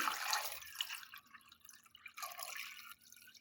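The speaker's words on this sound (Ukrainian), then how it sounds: "Заливаю холодною водою" Cold water is poured over fish in a pot in a kitchen, giving faint splashing and trickling with a few drips, quiet and close, with no talk.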